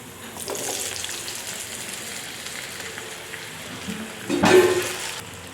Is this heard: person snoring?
no